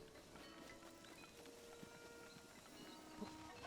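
Steady clip-clop of horse hooves at an even trot in The Legend of Zelda: Breath of the Wild, moderately close, over a continuous synthetic background hum with faint chimes.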